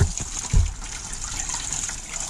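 Coolant gushes and splashes out while a 2001 RAM 5.9 Magnum radiator is flushed, a heavy low rushing burst near the start settling into a steady close trickle and spatter.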